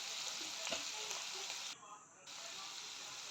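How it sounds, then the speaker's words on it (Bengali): Green chilies stirred and fried in a pan make a bright, steady sizzle up close, briefly dipping for a moment before the hiss resumes, with no talking. "এগুলি কিছুক্ষণ আমি নাড়িয়ে চাড়িয়ে ভেজে নেব।"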